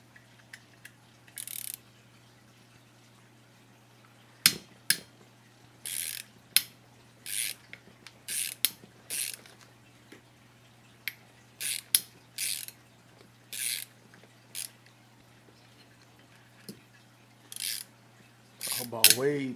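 A ratchet wrench tightens parts on a TLR Five B RC car, giving repeated short bursts of sharp clicking in irregular spurts over a low steady hum, close and crisp.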